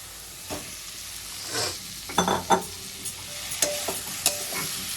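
Fried potatoes and poppy seeds are stir-fried with spices and softened tomatoes in a pan, giving a soft sizzle broken by sharp spoon scrapes and clatters at an uneven pace.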